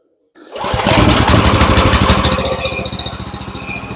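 A motor cranks and catches after an oil change, then runs with a steady, rough throb close by, loud at first and easing slightly as it settles into idle.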